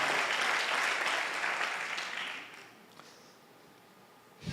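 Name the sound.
congregation applause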